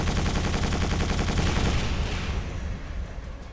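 Rapid, dense gunfire from the Quake 4 shooter game on Linux, a loud continuous rattle of shots that eases slightly toward the end, with no talk over it.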